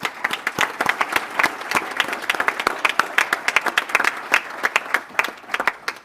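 A round of applause for employees at a credit union's annual general meeting: a sizeable audience claps in a lively, uneven patter for about six seconds, with no voices over it.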